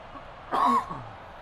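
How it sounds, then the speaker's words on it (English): A single short cough, close and fairly loud, against a quiet background during commentary of a Utah State at Alabama basketball game. "Apologies for the cough."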